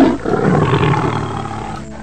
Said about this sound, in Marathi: T for टायगर, टायगर म्हणजे वाघ.